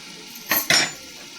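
Metal lid set over a pot of potatoes and tomatoes in a village kitchen in Chhattisgarh, India: two quick close metallic clinks in a row, alone with no talk.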